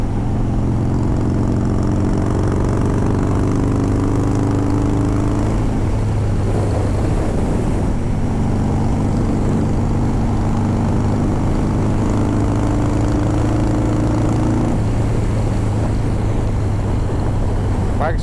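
A built Harley-Davidson Softail Twin Cam motorcycle cruising at about 60 to 70 mph, giving a steady, loud low engine drone with constant wind rush throughout.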